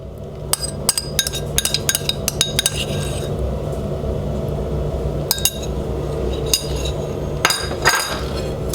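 A metal spoon clinks against a pan while melted garlic butter is basted over food, giving scattered sharp, close taps and scrapes over a low kitchen background, with no talking.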